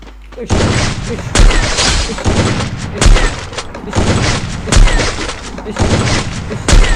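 A sniper rifle in a video game fires again and again. Loud booming shots land in a rapid irregular series, with a player talking excitedly over the gunfire.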